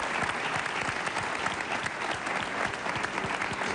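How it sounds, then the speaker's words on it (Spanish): A TV studio audience applauds at a televised tribute show, dense, even clapping holding steady throughout at a moderate level with no voices above it. "Un aplauso para la doña Pelos."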